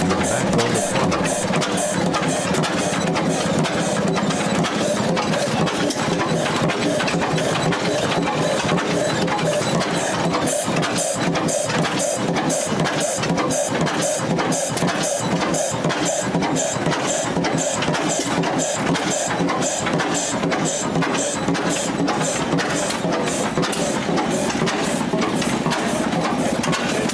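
A multi-cylinder Fairbanks Morse diesel engine from the early 20th century idles loud and close, a dense, steady, rapid mechanical clatter of firing and valve ticks running without pause throughout.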